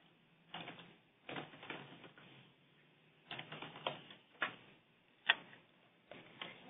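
A computer mouse clicks in sparse, uneven bursts, with short clusters of crisp taps separated by quiet gaps and one sharper, louder click standing out.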